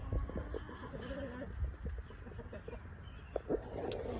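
A hen with one blind eye clucking softly nearby on a farm, a few faint low clucks scattered over a quiet outdoor background.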